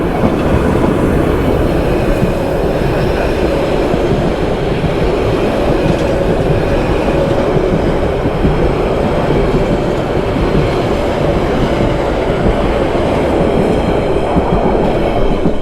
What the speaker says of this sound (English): And this is close up of the train coming through.